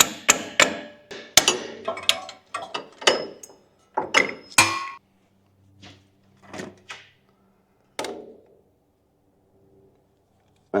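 A big socket on extensions is tapped against a front differential seal on a 2005-2015 Toyota Hilux N70, giving a quick run of sharp metallic knocks that thins to a few spaced taps, close and loud.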